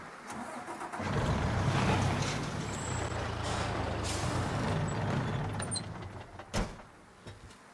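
A truck in the Mafia III video game hisses its air brakes and rumbles as its engine runs and starts up, with a sharp pneumatic burst near the end.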